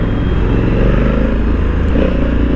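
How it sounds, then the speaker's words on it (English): A Honda Africa Twin BS6 motorcycle being ridden at speed, a loud, continuous engine drone mixed with heavy wind rush, steady throughout with no speech. "Oh boy, it rides really fast."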